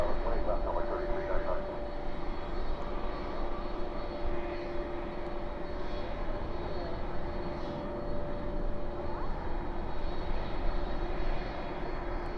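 A Boeing 787 Dreamliner at DFW airport at night gives a steady, moderately distant engine drone with a sustained tone, holding evenly across the whole stretch with faint voices in the background.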